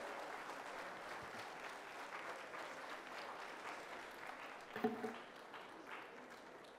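Audience applause at a Rozgar Mela job fair ceremony in Bhubaneswar, a steady wash of clapping from a seated crowd that runs throughout, with a brief louder thump near the end and no speech over it.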